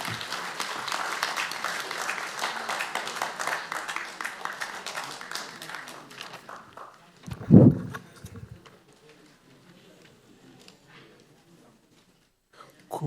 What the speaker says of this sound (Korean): 따뜻한 박수로 회장님을 모시겠습니다